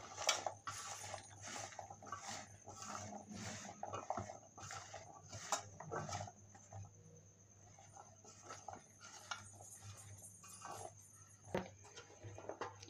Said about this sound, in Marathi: हे मी अशा पद्धतीने मिक्स करून घेत आहे, म्हणजे ते आपला मसाला सर्व चण्यांना लागेल.